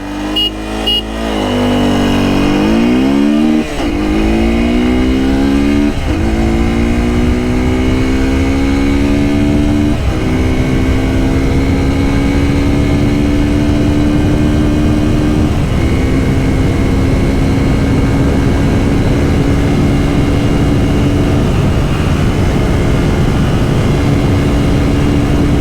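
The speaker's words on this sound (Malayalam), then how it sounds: "ഞാനപ്പോൾ 0 to 100 ഈ വണ്ടി എത്രയും കയറും എന്ന് നമുക്കൊന്ന് നോക്കാം" A Hero Xtreme 200S motorcycle revs hard from a standstill, its engine note climbing through several gear changes with brief dips between shifts, loud and close throughout.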